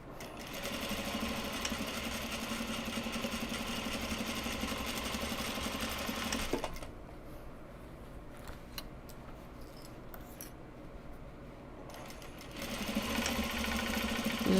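A sewing machine top-stitches a Japanese fabric bag, a loud steady motor whir for about six seconds, then a pause with small handling clicks, and the stitching starts up again near the end.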